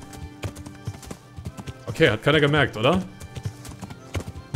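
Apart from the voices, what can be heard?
horse hooves clip-clopping in a video game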